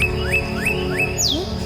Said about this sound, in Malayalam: കിളികളെ ശബ്ദം